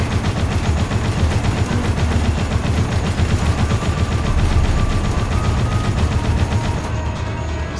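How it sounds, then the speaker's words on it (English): Mounted machine gun on an XM3 prototype tank firing in the video game Dead Rising, a continuous loud stream of rapid automatic shots with mechanical clatter, heard without talk. "we use this mounted machine gun on the XM3 prototype tank"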